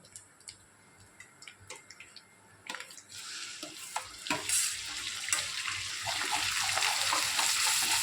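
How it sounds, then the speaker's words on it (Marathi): Ground masala paste for an egg curry frying in hot oil: a few soft clicks and clatters come first, then a broad sizzle starts and swells into a loud, steady hiss close by. "मसाले आता तेलामध्ये छान भाजून घ्यायचे आहेत"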